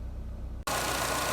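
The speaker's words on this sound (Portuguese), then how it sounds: "o motor ligado e tudo" A Jeep Renegade with a rough idle and hard-starting fault runs with a steady, close engine hum that jumps abruptly from a quieter drone to a much louder, broadband roar halfway through; no speech.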